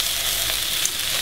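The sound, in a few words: mushrooms, spinach and garlic frying in a pan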